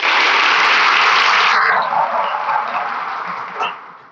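Boys in an audience clap together loudly in dense, sustained applause for about three seconds. The clapping then thins and fades out.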